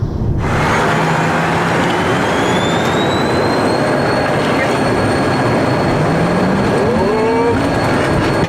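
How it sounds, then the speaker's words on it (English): Aircraft engines roar loud and steady through a takeoff run on runway 24, with a constant broadband rush and rising whining tones. "you're clear for takeoff runway 24"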